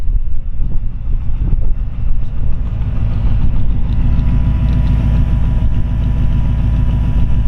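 A hopped-up flathead V8 in a 1940 Ford Tudor slantback idles loud and close, a steady deep rumble with even throbbing pulses and some wind buffeting the microphone.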